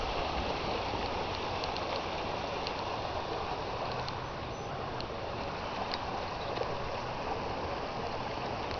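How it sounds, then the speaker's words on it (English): A creek running below a hazardous waste landfill after 1.4 inches of rain, its water flowing as a steady, broad rushing wash that stays even throughout, moderately faint and with no voices over it. "Just look at this creek."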